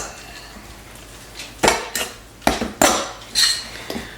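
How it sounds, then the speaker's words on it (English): Spoon clinks and scrapes against a bowl as cheese is stirred into a mixture, several distinct knocks in an irregular rhythm over a quiet room background, no talking. "Stir our cheese in to the other mixture."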